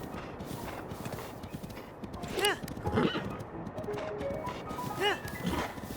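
Wild horses in Zelda: Breath of the Wild whinny twice with rising, wavering neighs over a steady patter of clip-clopping hooves and ambient game sound, moderately faint.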